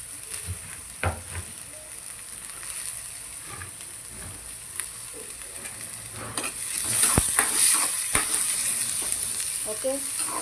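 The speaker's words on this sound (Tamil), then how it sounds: "கேரட் பீன்ஸ் வதங்கட்டும்" Carrots and beans sautéing in a hot pan, giving a steady sizzle with scattered spatula scrapes and taps that grow busier and louder toward the end.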